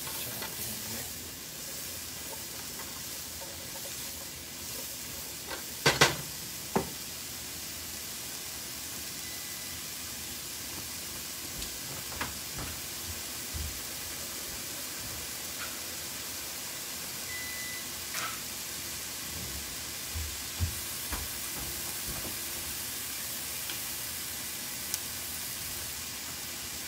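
Small onions frying in a pan for a mushroom curry, a steady soft sizzle running throughout with occasional scrapes and clinks as they are stirred.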